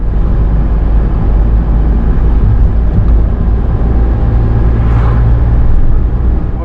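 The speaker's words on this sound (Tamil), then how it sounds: "இன்னும் கொஞ்சம் வேகம் எடுத்துடலாம்" A manual car gains speed on the road toward about 75–80 km/h, heard from inside as a loud, continuous low engine and road drone that holds steady with slight swells.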